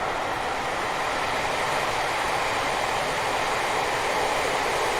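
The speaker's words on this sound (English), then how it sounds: "The varied bogey sounds are sublime, and especially the brake run." Steady roaring rumble of AP Class 411/412 EMU bogies on track in Train Simulator 2021, with a brake run, continuous and dense with a hissing edge, no distinct clacks standing out.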